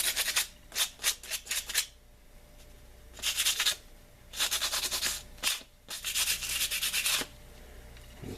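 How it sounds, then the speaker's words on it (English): A palm stick's rough edges get light sanding in short scratchy strokes, first in a quick run of brief rubs, then in longer bursts separated by quiet pauses, close and fairly soft. "I'm just going to kind of take light sanding to it to get rid of some of the rough edges"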